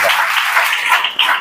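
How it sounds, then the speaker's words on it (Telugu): A church congregation claps together during a Sunday sermon, a dense, steady patter of many hands filling the space with no voice rising above it. "చప్పట్లు కొట్టి ప్రభు"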